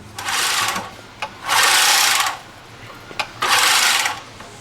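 A store-bought contact-blade reel mower pushed in three separate bursts, each a loud whirring clatter of spinning blades lasting about a second, with quiet pauses between.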